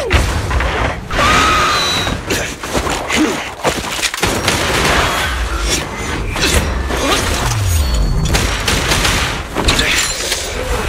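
Video game gunfire from Zenless Zone Zero: dense, continuous rapid shots and booming impacts with clattering mechanical effects, loud throughout, mixed with game music and occasional voices.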